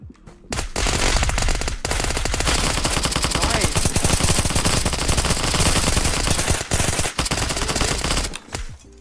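Dense, sustained automatic gunfire in the online survival game Apocalypse Rising 2, loud rapid bursts running almost without pause for several seconds with a few brief gaps.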